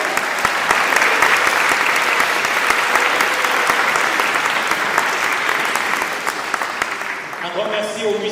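A church congregation applauding at a Christmas Eve service, a dense, sustained wash of clapping from many people that fades near the end as a voice begins to speak.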